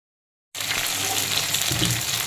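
Pointed gourd (parwal) slices frying in oil to a medium fry, starting abruptly after a moment of silence with a loud, steady, close crackling sizzle that holds evenly throughout.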